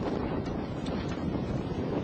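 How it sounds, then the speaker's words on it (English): Steady, loud wind buffeting the microphone, a constant low roar with gusty swells and no voices. "It's pretty windy when I was there on that day, chilly."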